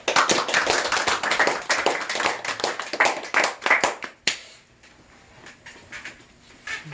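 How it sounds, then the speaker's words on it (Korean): Applause at a fundraising donation ceremony for a Pyeongtaek-area comfort women Peace Girl statue committee in Paju, as a committee director is invited up: dense, steady hand clapping from a small gathering for about four seconds, then fading to sparse scattered claps. "박수"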